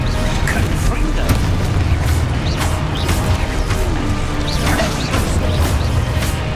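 A Confringo fire spell in Hogwarts Legacy explodes amid a dense combat din, with several sharp blasts and crashes mixed with other spell impacts and a voice calling out spells.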